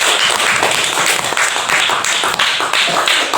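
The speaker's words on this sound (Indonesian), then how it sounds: "Tepuk tangan dulu untuk kelompok 3" A classroom full of students claps for group 3, a dense, steady burst of many hands applauding together, loud and close, with no pauses for the whole stretch.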